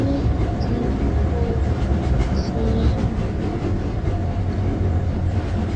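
A train pulling into a station in a video game, with a steady, loud rumble of rolling railcars and faint clickety-clack running throughout, no voices heard.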